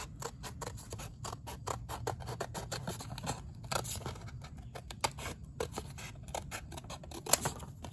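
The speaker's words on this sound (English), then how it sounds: "Get the old trusty Harbor Freight scissors that cut just about nothing." Harbor Freight scissors snip through a sheet metal template for a 1968 Pontiac Firebird convertible rocker panel, a rapid series of close crisp metallic clicks and cuts with no talk.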